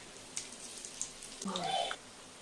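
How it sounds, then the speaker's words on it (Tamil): Plantain (vazhakkai) pieces fry in oil with a faint, soft crackle and spatter, a few small pops standing out, under a voice for a moment. "பொறிக்கட்டும் இப்போ திருப்பி போட்டுடலாம்"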